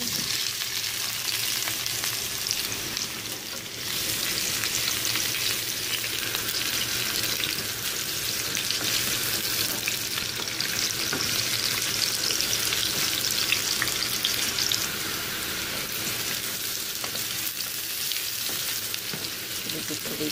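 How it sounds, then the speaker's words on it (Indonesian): Vegetables and carrots stir-frying in oil left over from cooking mushrooms, a loud, steady sizzle with stirring scrapes running unbroken throughout. "Sekarang mau ditumis."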